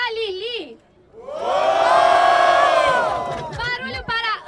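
Crowd at a rap battle cheering and shouting for MC Lili: a brief voice, a short pause, then a loud swell of whoops and yells lasting about two seconds before fading, with more voices calling out at the end.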